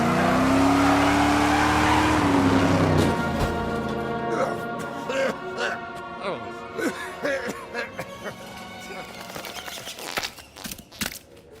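Cars in the Lego Batman video game rev, race and skid with squealing tires and engine whine, mixed with sharp clatters and impacts, while voices talk over the action.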